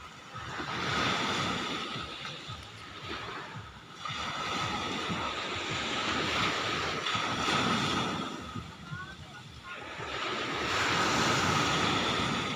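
Large ocean waves surge and roll in broad, noisy swells around a boat, with wind rushing across the microphone; no clear voices.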